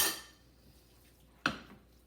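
A spoon clinks against a bowl once at the start and again near the end while working room-temperature butter into homemade pesto, faint kitchen noise between the two brief hits.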